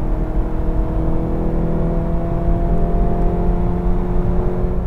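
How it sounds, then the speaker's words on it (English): A 2019 VW GTI engine holds a steady rev under power, its droning hum and whir carrying artificial enhanced engine sound piped into the cabin, loud and continuous with no talking. "you only hear the pumped in audio when you're steady revving up and putting power on the motor"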